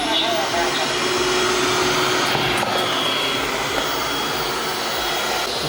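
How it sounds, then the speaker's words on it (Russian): A Neatsvor U1 MAX robot vacuum cleaner and mop starts cleaning with a loud, steady motor whir that holds constant throughout, close by. "Пылесос начинает уборку."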